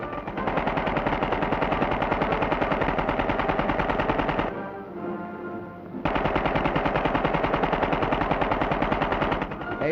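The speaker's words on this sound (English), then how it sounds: "Here's a demonstration where mutual confidence and a hatful of chattergun slugs are both well placed." Machine guns fire sustained, rapid bursts at a forward-moving target, loud and continuous, broken by a brief pause before the chattering fire resumes.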